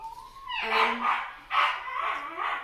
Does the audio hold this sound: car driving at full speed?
no